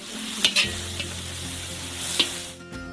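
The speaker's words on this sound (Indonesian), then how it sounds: "lalu kita goreng sampai transparan" Chopped onions sizzle and fry in butter with a steady crackle, punctuated by a few sharp clinks of a utensil against the pan.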